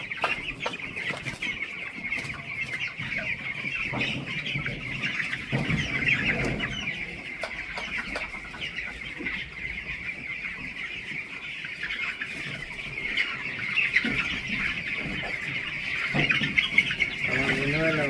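Chickens clucking and chattering steadily on a farm while being sprayed with medicine for a cold, with some people talking nearby throughout.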